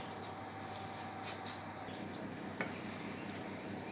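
Quenelles de volaille poach in a pot of barely simmering water, a faint, steady bubbling hiss that stays low and even throughout, with one small tap partway through.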